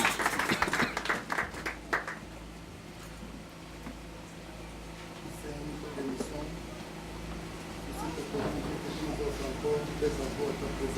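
A congregation applauds during a church service, a burst of close clapping at the start that fades into a low hum of room noise, with a voice speaking over it.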